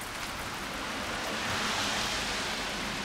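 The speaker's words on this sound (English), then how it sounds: "It's wet and rainy." Steady rain outdoors on a wet, cold day, a dense even hiss of falling drops close by with no pauses and no voices.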